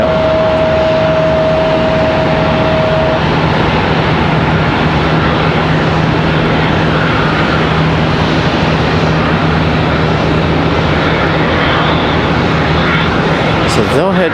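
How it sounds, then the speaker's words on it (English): Loud, steady roar of a Spirit Airlines Airbus A321neo jet at Charlotte Douglas airport, filling the whole clip with broadband engine noise and a low hum, a brief tone early on, with talk in the background. "That's an A321 Neo."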